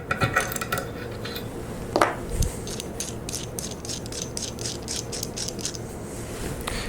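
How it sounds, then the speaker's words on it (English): A jam nut is unscrewed from a modular angle plate, giving light metallic clicks and ratcheting ticks with a couple of sharper knocks, close and moderately loud, without any talking. "I'll just take this jam nut off."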